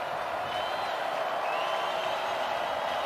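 Football stadium crowd at a Washington State Cougars vs. James Madison Dukes college game, a steady broad roar of cheering that holds at an even level throughout without a clear peak.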